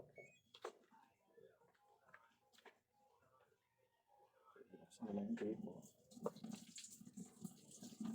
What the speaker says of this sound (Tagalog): pag on mo pa lang ng tubig, pumapasok na dito guys yung ano sa inlet